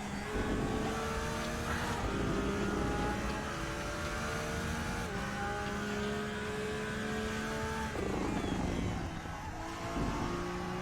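Porsche GT3 race car in the RaceRoom racing game, its engine droning loud and steady with gear shifts stepping the pitch and a rising rev near the end, no voices.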